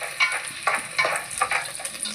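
Chopped green chillies and onions frying in a pan for veg pulao, with a soft sizzle broken by repeated scraping stirs at a quick, even rhythm, close and fairly quiet.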